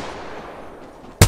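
Bursts of G7 and Mastiff weapon fire in a video game, a fading tail of a shot followed by a sudden loud close blast at the very end.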